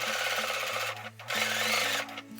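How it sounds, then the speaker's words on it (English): Sewing machine stitching along a folded fabric tape tab for bunting, a steady close mechanical whir with one short pause mid-run before stitching resumes. "just run a stitch along there just to hold it together"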